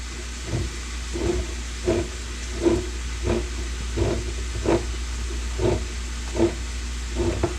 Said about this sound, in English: While the beef is browning